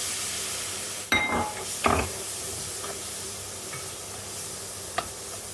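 Chopped, peeled tomatoes go into a hot frying pan with fenugreek and salt, bringing two short bursts of sizzle and stirring scrapes over a low, steady hiss, followed by a faint tap.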